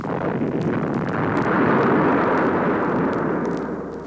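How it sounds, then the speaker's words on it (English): Massed Corps artillery fires a time-on-target barrage, the shells arriving as a broad, sustained roar of overlapping blasts that swells and then slowly fades, heard from a distance. "The incredible noise of Corps artillery firing time on target."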